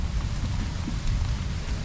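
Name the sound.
rain getting heavier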